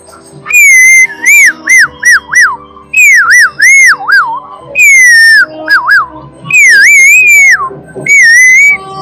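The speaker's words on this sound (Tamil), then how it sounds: "இது வந்து நோஸ் ஃப்ளூட்னு சொல்லுவாங்க." A nose flute played through the nose at a festival of ancient Tamil folk arts in Chennai gives bright, breathy whistle-like notes in short phrases, with quick slides and warbles between separate bursts, loud and close.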